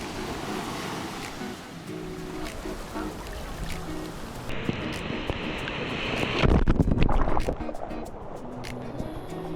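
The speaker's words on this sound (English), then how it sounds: "letting the waves hit us." Ocean surf washes in steadily on a beach with heavy wind rumble on the microphone, swelling into a louder breaking rush of water partway through.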